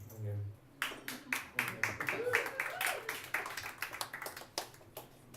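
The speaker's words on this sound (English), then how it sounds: "So people clap with that." A crowd at a Portland talk claps in a scattered burst of applause. Sharp, uneven claps ring out close by for several seconds while a voice speaks briefly beneath them.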